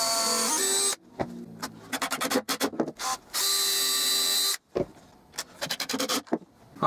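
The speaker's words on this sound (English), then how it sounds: "I can screw this in from the sides to make the cabinet a little bit more rigid" Screws are driven into the side of a wooden block board cabinet in a workshop, with close, loud bursts of whirring and ratcheting clicks, including two longer sustained runs separated by short pauses.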